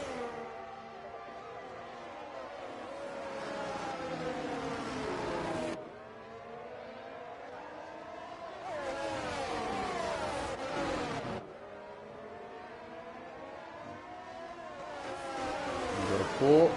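Several race cars in a sim racing game battle closely on a Spanish circuit in a Pacific Series round, engines droning and shifting pitch as they run nose to tail, with a steady continuous roar that swells near the end.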